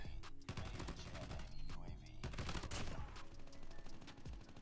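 Continuous automatic gunfire in Call of Duty Mobile, apparently from a Damascus-built AGR used like a light machine gun. The shots are dense and loud and run without a break.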